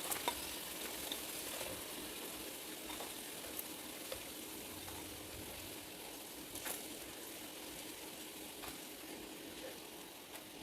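Food frying in oil, added one piece at a time, gives a steady, close sizzle with faint crackles throughout and no one talking.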